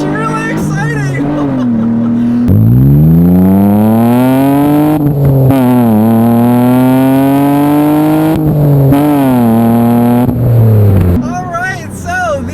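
A 2008 Mitsubishi Eclipse V6 GT with a 3.8 liter V6 pulls hard through the gears, its loud rising engine note climbing, dropping at each shift and climbing again, heard from inside the car.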